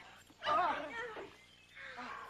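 A dog whimpers and yips close by in a short, high, wavering cry that rises and trails off, followed by a softer whine, with some movement noise around it.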